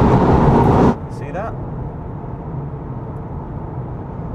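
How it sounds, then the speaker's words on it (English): Steady low road rumble and drone inside a Toyota GR hot hatch cruising on a motorway, following a brief loud burst at the start and a short spoken remark. "I'm going to be able to tell you how noisy this car is on a motorway environment."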